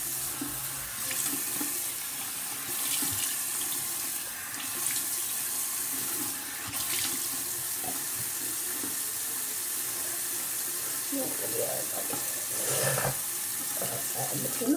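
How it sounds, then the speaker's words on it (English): Water running from a bathroom sink tap, a steady close splashing stream with occasional louder surges, continuous throughout with no talk over it. "I'm gonna turn the water off."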